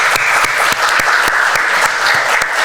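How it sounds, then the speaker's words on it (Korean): A church congregation claps together at a Thanksgiving Sunday service. The applause is loud and sustained, with sharp claps standing out over a dense steady wash of clapping. "우리 하나님 앞에 영광의 박수 한번 올리도록 하겠습니다"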